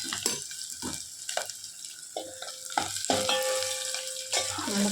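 Food sautéing in a pan at a home lunch cooking session, a soft continuous sizzle broken by scraping stirs and clinks of a utensil, close by, with a brief running-tap sound partway through.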